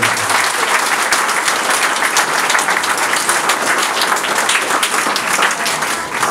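Loud, sustained applause from a large crowd at a town mayor's New Year reception in Fontoy, France, a thick continuous wash of clapping that never lets up.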